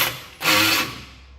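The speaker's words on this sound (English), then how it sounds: "I'm going to change over to my 3/8 cordless ratchet and back it out the rest of the way" A 3/8 cordless ratchet whirs in one short, loud burst while backing out a lock nut during F-150 3.5 EcoBoost engine removal, then cuts off.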